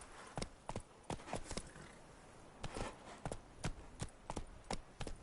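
Hoofbeats of Geralt's horse Roach in The Witcher 3, crisp clip-clop footfalls in uneven clusters, close and clear over a quiet outdoor background.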